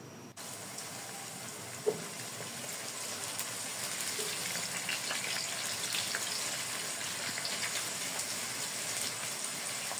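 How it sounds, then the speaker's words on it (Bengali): About one and a half cups of chopped onion sizzles in hot oil with a little ghee for kacchi biryani, a steady, dense frying hiss that stays even throughout with one small pop near the start and no talking. "পেঁয়াজ কুচিটা আমি তেলে হালকা ব্রাউনিশ করে ভেজে নিব।"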